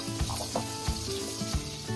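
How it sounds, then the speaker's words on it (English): Chicken with a little rendered fat sizzling in a still-hot pan while making a quick curry, a steady crackling fry punctuated by three regular low thumps, like stirring or scraping, at close range. "it's really hot still, so it's going to keep sizzling"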